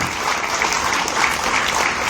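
Audience on a cruise ship hypnosis show applauding the volunteers, a dense steady wash of clapping that holds evenly through the short stretch without a break.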